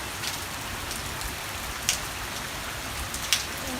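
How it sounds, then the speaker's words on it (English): Heavy rain pours in Hyderabad during the first big downpour of summer, a dense steady hiss of drops with a couple of sharper, nearer splats standing out. "it's raining heavily for the first time in this summer in Hyderabad"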